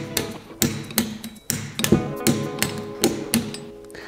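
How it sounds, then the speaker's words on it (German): Metal clicks and ratchet taps come from a torque wrench as it snugs down the screws of a SIP Supersport clutch on a Vespa scooter. The strikes are close and repeat in an uneven rhythm, with no talking. "dann können wir sie mit dem Drehmomentschlüssel auf 5 bis 8 Newton nachziehen"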